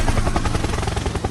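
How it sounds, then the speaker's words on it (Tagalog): Helicopter rotor thumping loudly and close, a fast steady chop with engine whine over the full stretch. "Helicopter."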